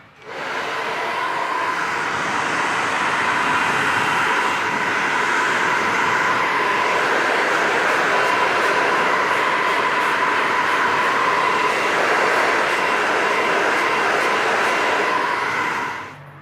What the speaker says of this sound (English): So I'm going to use the nozzle to dry the hair more than the brush.